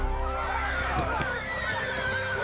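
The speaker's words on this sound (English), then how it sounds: "They come with many horses." Horses neigh and whinny in a battle scene, with clip-clopping hooves beneath, loud and close over a busy background.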